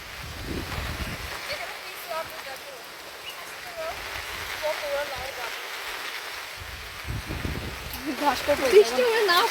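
Steady rain falls outdoors in a village, a continuous soft hiss throughout with voices talking over it at moments.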